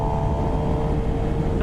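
A Suzuki GSX-R 750 motorcycle engine drones steadily and loudly through an upshift, with a constant mechanical hum and wind rush from onboard riding.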